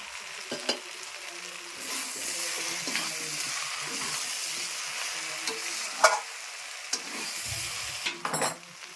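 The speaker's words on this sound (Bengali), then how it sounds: "ভাজা চিংড়িগুলোও দিয়ে দিচ্ছে।" Fried prawns and fried potatoes going into a simmering jackfruit curry in a home kitchen pan, with a steady sizzle and scraping stirs, a few louder clanks of the spoon against the pan near the end, no talking.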